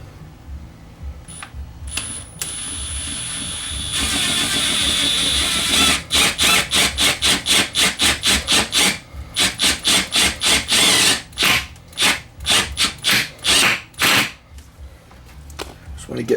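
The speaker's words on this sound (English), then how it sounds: "I'm going to drill a hole with the self-drilling screw through the steel bracket" A self-drilling screw driven through a steel bracket with a power drill, starting as a steady grinding whine and then breaking into a long run of rapid, rhythmic bursts as the driver pulses on and off, close and loud.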